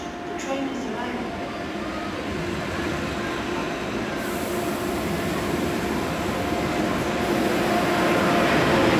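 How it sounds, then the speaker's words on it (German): A train rolls into Frankfurt Hauptbahnhof with a steady, broad rumble and a wheel hiss that builds slowly across the platform, heard continuously and fairly close. "caution, the train is arriving."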